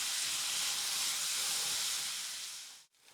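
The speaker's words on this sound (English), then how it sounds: "our oil is heating up, so we're gonna go ahead and add our onions. And we're gonna saute these for about 5 minutes" Onions sautéing in heated oil for a smoked whole cabbage dish, a loud, steady broadband sizzle that holds evenly, then thins out and briefly drops away near the end; no voices.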